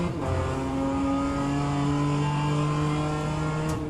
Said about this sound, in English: bogging down a bit there, too early on the upshift.